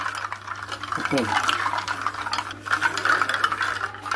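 A spoon stirs nannari sharbat in a glass, with light clinks and scraping swirls at close range beneath a low background hum and faint voices.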